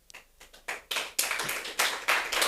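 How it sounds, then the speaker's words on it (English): An audience at a climate talks event breaks into applause, with scattered claps that quickly build into dense, steady clapping. "Might be the first and last round of applause I get this one"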